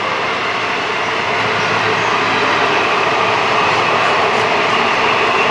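A train rolls past in the rain, a loud, unbroken rushing rumble that stays steady throughout.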